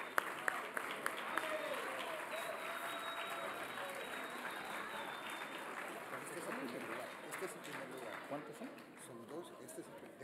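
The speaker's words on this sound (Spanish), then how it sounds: "Un aplauso para los equipos, por favor." An audience at an engineering symposium applauds the competing teams, a steady, moderately loud patter of many hands clapping throughout, with a few sharper claps at the start and faint murmuring underneath.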